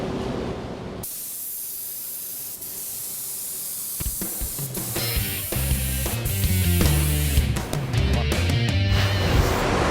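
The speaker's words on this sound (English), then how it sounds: "A couple passes with the spray gun, bang, had great coverage." A spray gun sprays Dupli-Color automotive paint in a garage shop, a steady loud hiss that is later joined by rhythmic music.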